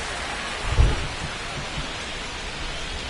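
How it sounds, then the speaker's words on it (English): Steady rain and a low thunder rumble during a baseball game in MLB The Show 25, the rainfall a continuous hiss with one brief close roll of thunder near the start. "This rain is not letting up."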